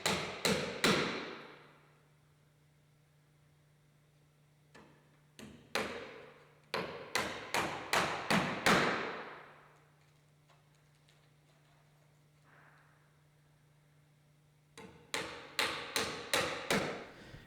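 Cedar ridge caps are fastened onto a gazebo roof in bursts of sharp, close hammer-like taps and knocks, several quick strikes in a row, separated by quiet pauses with a faint low hum.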